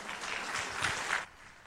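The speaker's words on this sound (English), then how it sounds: "Give her a round of applause." Audience applause at a healthcare conference talk, a fairly faint burst of clapping from the crowd lasting about a second before cutting off abruptly.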